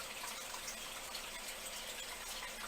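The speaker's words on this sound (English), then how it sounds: "I'm going to pour into the deepest part." UV resin poured slowly into a mould, a faint, steady trickling hiss that continues alone without pauses.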